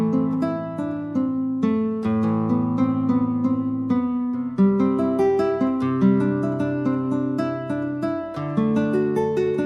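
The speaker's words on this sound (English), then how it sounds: "having acoustic guitars that sound like this are brilliant" Acoustic guitar from an Orchestral Tools chamber sample library plays chords and plucked notes in a steady strummed pattern, clear and close, with no voices.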